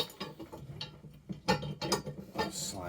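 A metal pin slides into the rung of a Halfords 2 tonne axle stand, with a run of close metallic clicks, scrapes and rattles, the louder knocks in the middle.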